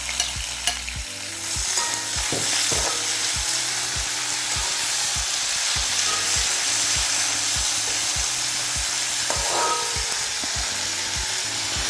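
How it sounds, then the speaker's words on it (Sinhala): Curry leaves, tomato, chili and okra sizzle in hot oil while a spoon stirs and scrapes the pan in a regular rhythm, the frying crackle constant and close. "පොඩ්ඩක් මේක ටෙම්පරාදු වෙන්න තියමු."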